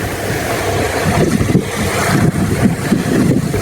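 Outdoor motion noise while divers are towed behind a boat off Anacapa Island, a loud rushing blend of wind buffeting the microphone and churning water, rising and falling unevenly.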